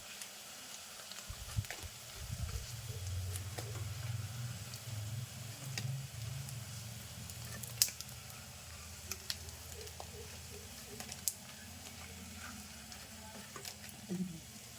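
Rice pakoras made from leftover lunch rice bubbling in hot oil and lifted out one at a time, giving a faint, steady sizzle with soft scattered clinks and scrapes from the utensil throughout.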